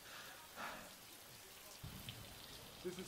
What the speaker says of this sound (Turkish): Zamansız bastıran yağmur kılıç çalışması yapan Nehar ve arkadaşını hazırlıksız yakaladı.